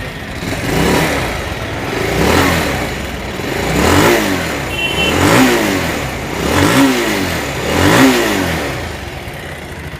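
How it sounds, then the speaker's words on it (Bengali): Bajaj Pulsar 220 BS4 motorcycle engine running and revving up repeatedly in a steady cycle of throttle blips, close and loud, with slightly loose rockers. "এবার বাইকটা স্টার্ট করবো,"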